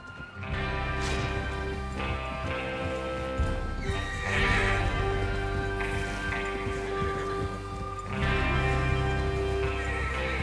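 Horses whinny and neigh over steady hoofbeats in the video game Red Dead Redemption 2, a busy layered scene with galloping rhythm throughout and a louder burst of neighing near the end.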